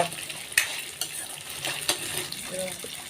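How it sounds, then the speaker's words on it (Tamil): Onions sautéing in a pan for coriander chutney, with a steady sizzle broken by spatula stirs and scrapes against the metal, close and moderately loud with no talking. "நல்லா வெங்காயம் வணங்க வரைக்கும் நல்லா வணக்கி எடுங்க"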